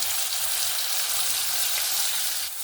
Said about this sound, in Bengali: এখানে আমি সম্পূর্ণ মশলাটা দিয়ে ভালো করে গ্যাসের ফ্লেমটাকে একদম লোতে রেখে মশলাটাকে কষিয়ে নিতে হবে।